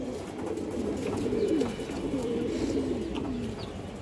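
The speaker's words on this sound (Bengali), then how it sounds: "এক পেয়ার খরা গলা কবুতর মাশাআল্লাহ" A pair of Khoira Gola pigeons coo softly and repeatedly at a breeding loft, their low rolling calls close and steady over light background noise.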